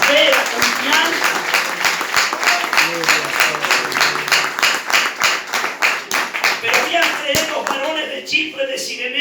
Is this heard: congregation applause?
yes